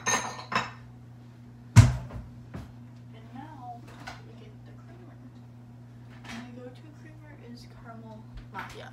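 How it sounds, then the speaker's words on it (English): A spoon clinks against a coffee cup while stirring in sugar, giving a few light, sparse taps and scrapes with a sharp knock early on, heard close up with a person talking in between. "You stir that in, put the sugar in."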